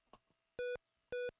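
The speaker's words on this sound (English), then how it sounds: "the next sound effect is beep and boop" Two identical electronic beeps from an Odyssey2 video game console, each a steady pure tone lasting about a fifth of a second, separated by a short gap, clear and alone after faint background noise.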